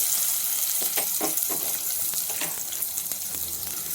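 Finely chopped onion sizzling in hot oil in a pan, alongside spices, with a steady frying hiss and scattered crackles and pops throughout.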